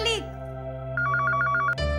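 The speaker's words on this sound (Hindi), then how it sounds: "फोन उठाओ, घंटी बजत बा" A telephone rings indoors in a Bhojpuri family drama, a burst of repeated electronic bell trills lasting under a second, with a voice speaking just before and a thump and speech after.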